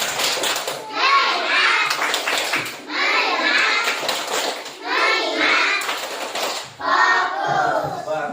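Schoolchildren in a classroom perform a chanted clapping routine, their voices in unison punctuated by bursts of sharp hand claps in a rhythmic pattern.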